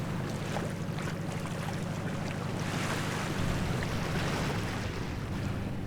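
A sailboat motoring under diesel engine power through a narrow channel, with a steady low engine drone mixed with wind and water wash, continuous and fairly loud, with no voices.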